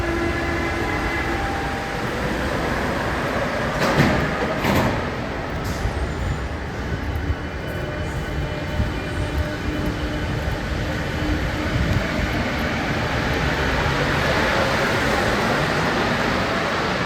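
A metro line 2 train runs through a station with a steady loud rumble and rolling wheel noise throughout, brief squeals and clanks rising over the continuous din.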